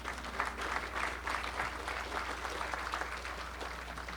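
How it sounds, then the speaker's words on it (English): Steady applause from an audience at a 2024 summit, moderately distant and even, with a low hum underneath and no speech over it. "Let's show them a round of applause for the wonderful hospitality."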